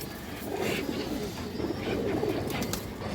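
Long road pigeons coo in soft, repeated low throbbing phrases, steady and close, with faint chirps above.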